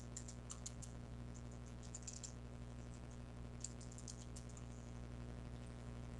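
Computer keyboard typing as text is entered into Autodesk Inventor software: quiet bursts of light, quick key clicks over a steady low electrical hum, no talking.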